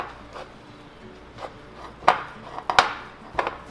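Cream cheese filling for Korean cream cheese garlic bread worked in a bowl with a rubber scraper, several soft irregular scrapes and knocks against the bowl, growing sharper toward the end, close up with no talking.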